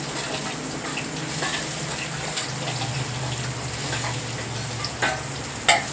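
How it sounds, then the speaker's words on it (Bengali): Pointed gourd (potol) frying in oil in a pan, a steady close sizzle with occasional stirring clicks and a couple of sharper scrapes near the end, no talking. "পটলটা ভাজা হয়ে গেছে আমার।"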